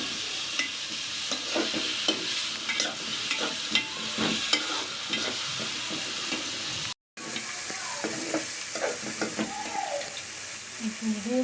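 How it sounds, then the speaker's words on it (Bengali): Onions and potatoes frying in hot oil in a pan, a close steady sizzle broken by repeated scraping stirs, with a brief dropout midway. "এটাকে এখন তেলে ভাজবো।"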